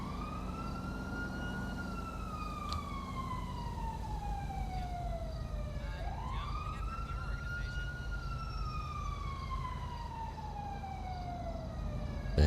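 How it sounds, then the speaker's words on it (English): A police siren in GTA 5 wails in long rising and falling sweeps over a steady low engine-like rumble, continuous and fairly prominent throughout. "Hearing sirens, that's about it."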